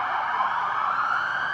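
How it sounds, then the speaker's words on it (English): Emergency vehicle sirens wail steadily outside, a continuous mid-pitched tone that holds level throughout, moderately loud and muffled as if heard from indoors. "sirens."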